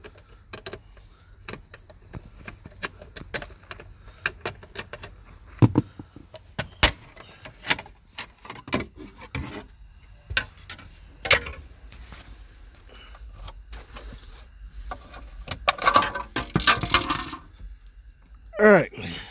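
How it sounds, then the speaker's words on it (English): Cover removed from a truck's steering mechanism in a workshop, heard as close, irregular metallic clicks, clunks and rattles of plastic and metal parts with brief scraping, while someone talks intermittently. "So let's get this cover off."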